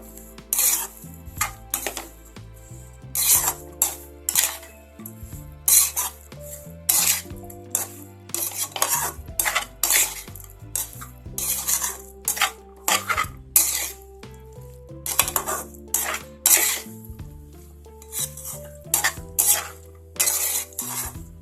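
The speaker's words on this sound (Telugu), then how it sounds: "కొద్దిగా కొరియండర్, టేస్ట్కి తగినంత సాల్ట్, 2 స్పూన్స్ ఆయిల్ వేసి మొత్తం బాగా మిక్స్ చేసుకుందాం" Spoon stirring and scraping through ingredients with coriander, salt and oil in a bowl, a rapid string of close, bright metallic clinks and taps against the bowl in an uneven rhythm.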